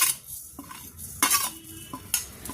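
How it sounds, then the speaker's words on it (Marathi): Sesame seeds tipped into a pan with peanuts and stirred for a Konkani-style bhogi vegetable dish: a few bright scraping stirs and light clinks of a spoon against the pan, close up, with faint sizzling between them and no voices. "आता हे तीळही आपण ह्याच्यामध्ये घालत आहोत."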